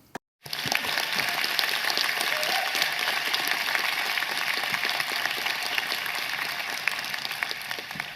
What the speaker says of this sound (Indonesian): We could probably give them a round of applause right now